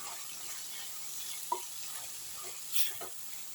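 Onion with ginger-garlic paste sautés in a pan, giving a soft steady sizzle broken by a few light stirring scrapes and taps, without speech.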